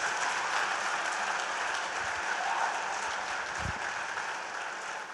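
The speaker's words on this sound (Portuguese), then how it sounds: "Você pode aplaudir o Senhor nessa noite?" Congregation applauding during an evangelical church service, a steady broadband wash of many hands clapping that fills the whole clip at moderate, slightly distant level with no voices on top.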